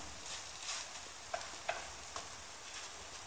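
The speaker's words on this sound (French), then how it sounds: "je les laisse sur le feu le temps qu'elles soient bien dorées" Food fries gently in a pan on the stove, a soft, quiet sizzle with a few light pops and utensil ticks, close and alone without speech.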